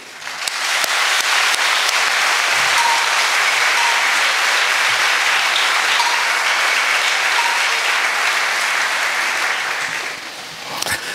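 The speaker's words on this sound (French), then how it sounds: "acclamons très fort notre élu du jour" Steady, loud applause from a church congregation honouring a priest at his silver jubilee celebration, a dense wash of clapping that swells in, holds for about ten seconds and then fades at the end.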